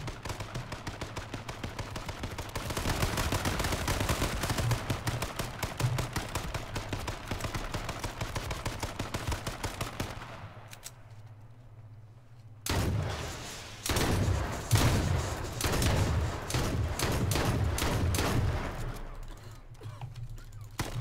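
Rapid bursts of automatic gunfire in the battle-royale game H1Z1 fill the soundscape: dense, loud, continuous shots, a short lull of a second or two, then more sustained firing.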